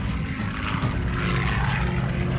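A WWII propeller fighter plane engine, a Japanese Zero or a Grumman Wildcat, droning steadily and loudly throughout with a rough, buzzing tone and no pauses.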